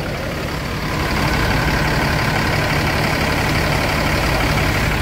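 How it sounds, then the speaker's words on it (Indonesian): A Mercedes-Benz 1626 bus engine idles steadily and loudly up close, a continuous low diesel rumble that grows slightly fuller after the first second and holds even to the end, with no talking. "Ini suara mesinnya ya, masih enak."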